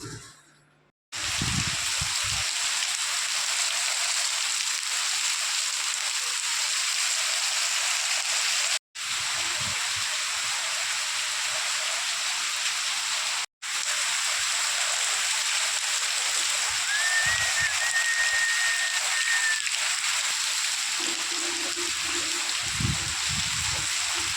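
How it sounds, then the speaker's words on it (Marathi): Heavy rain pouring down outside a home in a continuous, loud rushing wash, steady throughout apart from two very brief dropouts, with no talking over it. "पाहण्याला मित्रांनो कसा खतरनाक पाऊस पडतोय ना"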